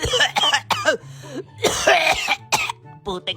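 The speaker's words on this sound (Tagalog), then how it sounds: "Putik na ubo na." A man coughs repeatedly in harsh, uneven bursts, some throaty and rasping, with short gaps between fits. A few voiced noises are mixed in, up close and loud.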